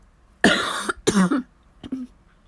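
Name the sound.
cough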